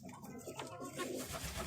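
Domestic pigeons coo softly in a loft, with a low murmuring call amid a muffled, close background.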